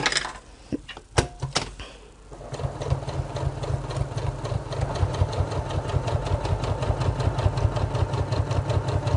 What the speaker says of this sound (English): I'm stitching as close as I can to where that fold is of that binding